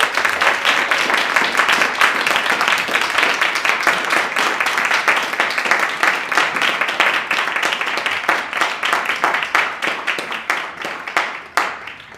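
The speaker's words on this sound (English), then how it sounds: "I would say another big applause was for this really stellar" Sustained audience applause at the close of a Japanese Playwrights Project staged reading, dense clapping filling the room for about twelve seconds, then thinning and trailing off near the end.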